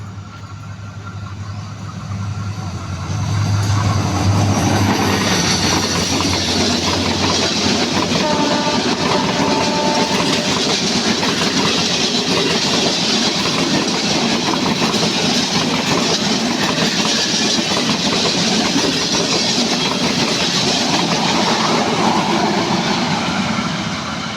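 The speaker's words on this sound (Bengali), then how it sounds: "একটা ট্রেন চলে আসছে সম্ভবত ইন্টারসিটি" An intercity train arrives at Mirzapur railway station in Tangail, Bangladesh. Its loud rumble swells after a quiet start, then settles into a continuous heavy clatter of wagons passing close by, with no talk.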